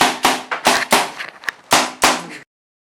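A rapid volley of sharp stage gunshot effects for soldiers firing in a production of Hamlet: about eight loud, close cracks in an uneven burst, then abrupt silence.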